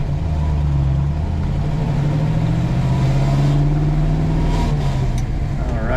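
The engine of a 1956 Corvette pulls away in first gear, with a steady loud drone whose pitch slowly rises and falls, then picks up again toward the end.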